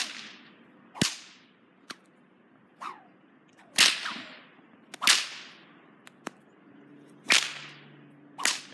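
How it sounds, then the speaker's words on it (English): Whips cracking outdoors on a snowy winter day after about two feet of fresh snow, sharp loud cracks every second or so, each followed by a ringing echo that trails off, with no talking. "playing with our whips from Keanu."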